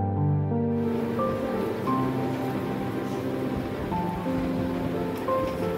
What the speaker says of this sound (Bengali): মিডিয়াম ফ্লেমে এপিট ওপিট করে ভালো করে ভেজে নিতে হবে, যতক্ষণ না পকোড়িগুলো লাল লাল হয়ে যায়।